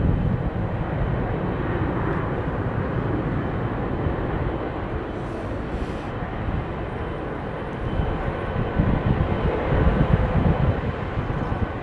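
An airliner with Pratt & Whitney engines takes off at London Heathrow, a loud, continuous broadband roar that holds steady throughout, with no voices.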